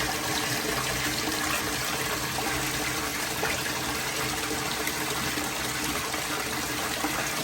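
Water runs steadily into a Japanese koi grow-on pond being filled for tosai, a constant broadband rush and gush that stays loud and even throughout with no talking.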